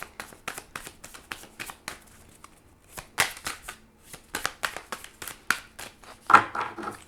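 Tarot cards being shuffled close up, in quick irregular bursts of riffling and slapping separated by short pauses.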